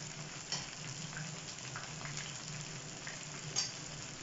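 Fish pieces frying in hot oil in a pan over high heat, a steady close sizzle and crackle with faint occasional spatters and no talking.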